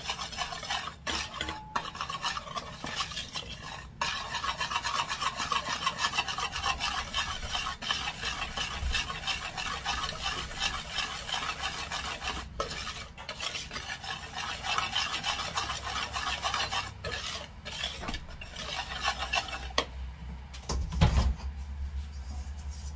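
Batter being stirred in a bowl after adding baking powder, a steady scraping and rubbing of spoon against the bowl that continues for a long stretch with brief pauses and a few knocks.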